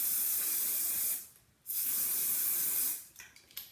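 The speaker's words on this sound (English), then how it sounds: "just put some hairspray" Hairspray from an aerosol can sprayed onto a doll's hair in two steady hissing bursts, close and loud, separated by a short pause, with a quicker spritz at the end.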